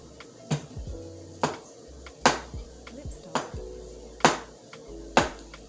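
Two whole boiled eggs chopped for a cold salad, about six separate knocks of a knife on a board at a slow, even pace, close and clear.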